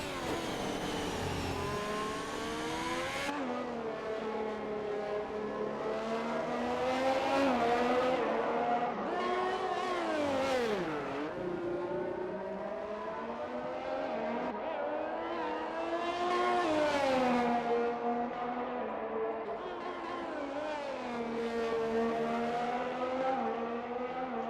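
A race car engine in a racing video game laps a Brazil circuit, revving up and down through gear changes with a continuous, whining, fairly loud tone and no talk over it.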